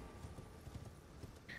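Torrent, the spirit horse in Elden Ring, clip-clops along in a light, steady rhythm of hoof beats, fairly quiet, ending with a short higher tone.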